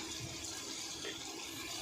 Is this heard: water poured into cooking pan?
yes